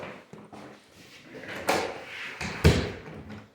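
A house door is pushed shut, with faint handling and shuffling before two distinct knocks and thuds as it closes and latches.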